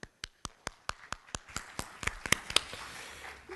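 Audience at a lecture on criminal law begins clapping to welcome the speaker, sparse separate claps that quicken and thicken into a short burst of applause, moderately near in a quiet room.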